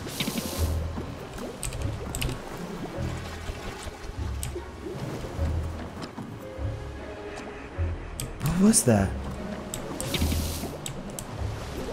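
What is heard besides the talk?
suspicious bubbling in the video game Don't Starve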